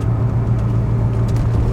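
A stock, unmodified Corvette C3 with a 180-horsepower factory engine runs with a steady, deep rumbling drone, close and loud throughout, with no voices.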